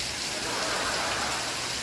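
Steady, even rain patters down with a dense hiss throughout the whole stretch, with no talk or other sounds over it.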